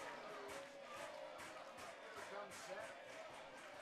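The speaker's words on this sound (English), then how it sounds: "And listen to the crowd." Baseball crowd at a Portland Pickles game, a dense rowdy murmur of fans chirping and shouting, heard from a distance under a play-by-play voice.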